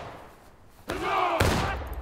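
A musket volley in the American Civil War game War of Rights. A ragged burst of rifle shots cracks out after a quiet moment, followed by a second burst with echoing rumble. Voices can be heard in the background.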